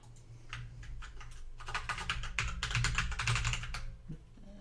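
Fingers type a password on a computer keyboard, a close run of quick clicking keystrokes that speeds into a dense burst before stopping, with no voices.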